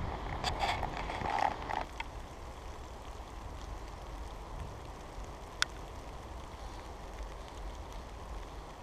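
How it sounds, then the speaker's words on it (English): Light rain falls steadily in woodland, a soft continuous patter with a few louder drops and knocks near the start, no talking. "at the moment it is sort of raining but not hard"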